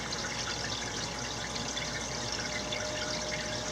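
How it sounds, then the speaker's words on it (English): Water trickles into a shrimp aquarium during a slow drip water change, a steady, close, broadband wash of falling water with no distinct individual drops and no talking. "Slowly drip it in, water gets mixed, everybody's happy."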